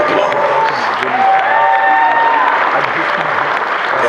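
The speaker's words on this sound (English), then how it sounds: "Please give her a round of applause." An audience at a boxing hall of fame award ceremony applauds and cheers for Kathy Collins-Globuschutz, sustained clapping with whoops and crowd voices rising over it, plus a faint tonal whistle.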